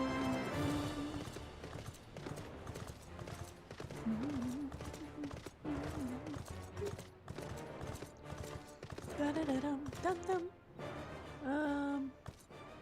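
Horse hooves clip-clop in a video game, a quick, repeated trotting rhythm mixed with game sound effects and a tonal music or whinny-like line, fairly quiet with brief drops.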